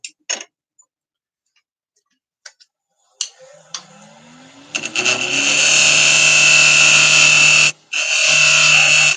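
A wood lathe turns a ring blank while a bowl gouge with a fingernail grind cuts. After a few sparse clicks, the motor spins up with a rising whine into a loud, steady cutting roar that stops briefly near the end.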